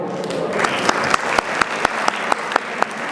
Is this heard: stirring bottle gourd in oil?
no